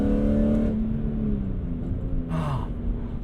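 A track-prepared BMW E46 M3 ZCP with a CSL computer revs its engine. The pitch sweeps down and settles into a low, steady rumble heard from close by.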